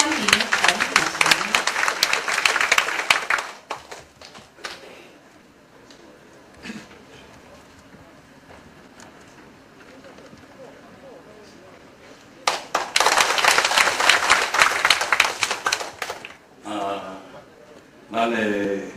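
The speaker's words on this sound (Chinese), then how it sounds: "我们掌声欢迎洪主席" An audience at a petrochemical company ceremony bursts into applause to welcome the chairman, with loud bursts of clapping at the start and again later, separated by a quieter stretch, and speech over parts of it.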